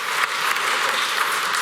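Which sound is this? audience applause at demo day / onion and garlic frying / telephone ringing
audience applause at demo day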